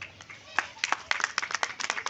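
A church congregation claps together in a short burst of scattered, uneven hand claps, fairly close, with faint murmuring under it.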